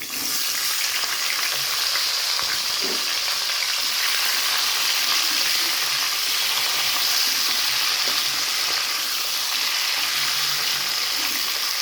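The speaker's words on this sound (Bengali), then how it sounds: "ওই তেলে কিন্তু আমি কেটে রাখা আলু আর সিমটা দিয়ে দেবো, ভেজে নিব আগে।" Cut potatoes and flat beans (shim) frying in hot oil in a pan, a loud continuous close sizzle that holds steady throughout, with faint stirring and no voices.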